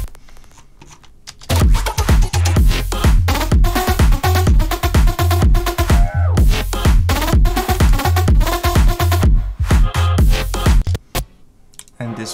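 Serum synth preset doubled by a chopped vocal sample playing the same rhythm, dense stuttering bursts over a thumping low end that drive hard, then drop away near the close, with no talk over them.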